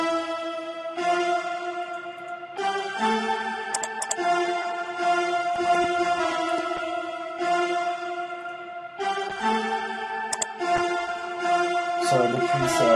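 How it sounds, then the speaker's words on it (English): Synthesized orchestral strings preset from a classical orchestra and choir bank, playing a sustained chord pattern in a beat arrangement, steady and continuous with chord changes every few seconds and no voices. "And the next pattern is a strings pattern that I added to give the beat more flavor"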